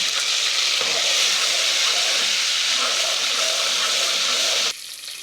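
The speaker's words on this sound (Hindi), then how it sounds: "अब डल रहा है अदरक लहसुन" Ginger garlic paste hits hot oil for dhaba-style moong dal fry, setting off a loud, steady, close sizzling hiss that holds for several seconds before dropping off suddenly near the end.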